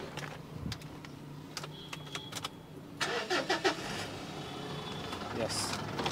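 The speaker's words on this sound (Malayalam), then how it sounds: "സ്റ്റാർട്ട് ചെയ്ത് കഴിഞ്ഞാൽ നമുക്ക് അതിൻ്റെ സൗണ്ടും കൂടി ഒന്ന് കേൾക്കാം" A used Mitsubishi Pajero Sport starting up: clicks and a short churning crank give way to the engine catching and settling into a steady idle, with a voice talking nearby.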